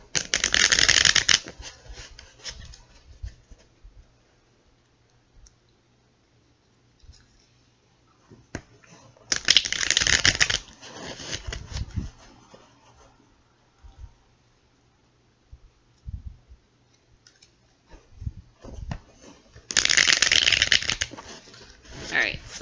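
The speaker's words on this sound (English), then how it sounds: "I think we have about 3 more shuffles in there" Three separate bursts of tarot cards being riffle-shuffled up close, each a quick flurry of fluttering snaps, with quiet handling noises and pauses between.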